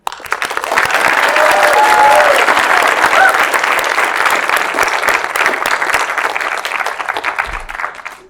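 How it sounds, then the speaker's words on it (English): Sustained applause from an awards-night audience for winners of an animation competition, loud and dense clapping that rises quickly and holds for several seconds before fading, with no talking over it. "I just would like to give a quick applause to everyone who won"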